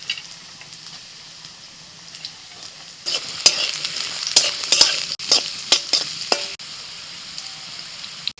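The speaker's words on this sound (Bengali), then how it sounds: "গরম হয়ে গেছে তেলটা, দিয়ে দিচ্ছি গাজর" Carrots hit hot white oil and ghee in a pan, starting with faint quiet bubbling, then bursting into loud crackling sizzle with sharp pops and stirring scrapes, settling into a steady fry near the end.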